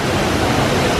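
An Ecuadorian waterfall pours in a loud, steady roar of broadband rushing water, unbroken and close.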